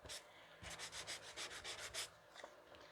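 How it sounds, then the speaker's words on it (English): A sanding block rubs back and forth over paper in about a dozen quick, rhythmic scratchy strokes, close and fairly soft, then trails off into quiet. "This is a sanding block."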